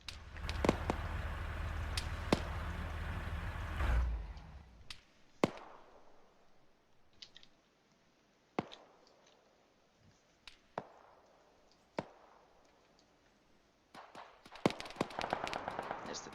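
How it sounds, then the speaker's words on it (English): A tank cannon fires in an Arma 3 modded operation, with a heavy low boom at the start, followed by scattered sharp distant shots and cracks spread across the rest of the battle. "There's the tank opening up."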